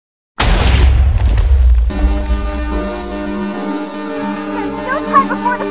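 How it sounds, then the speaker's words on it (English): A loud bomb blast erupts in the Mega Man Zero video game, a sudden deep boom with a rumbling tail that gives way to steady electronic music. "Before the bomb explodes."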